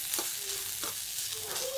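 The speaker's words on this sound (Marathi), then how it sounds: "कांदा मऊ झालाय पूर्ण, आता भाजलाय चांगला।" Onion frying in a pan with soft crackling sizzle and a few quiet scrapes of a spoon stirring, steady and close but fairly faint, with no voices.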